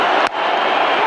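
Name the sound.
cricket crowd cheering Brendon McCullum's century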